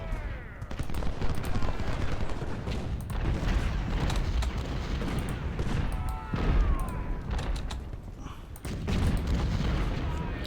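Dense battle din of cannon booms and crackling musket volleys in the Ultimate General: Civil War game, loud and continuous with repeated sharp reports, as mounted infantry attack Richmond.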